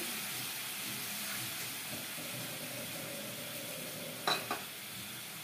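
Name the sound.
yogurt being stirred and sautéed in a hot pan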